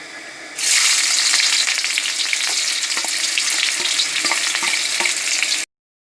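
Onions dropped into hot oil with cumin seeds for a pumpkin curry start a loud, continuous sizzle and crackle that holds steady close by, then cuts off abruptly.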